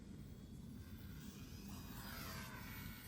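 A small Volantex 500mm P-51 radio-controlled model airplane in flight, its electric motor giving a faint, steady drone with a slight rise and fall in pitch as it passes, distant and alone.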